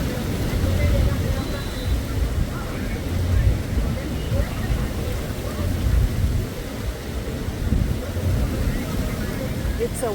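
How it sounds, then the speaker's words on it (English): Wind on a blustery day at Mahogany Bay, Roatan, Honduras, a loud, steady low rumble of gusts buffeting the microphone without pause. "It's a windy day in Mahogany Bay, Roatan, Honduras."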